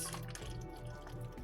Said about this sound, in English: Okay, so we're just gonna pour this in here. This is just our cayenne pepper juice.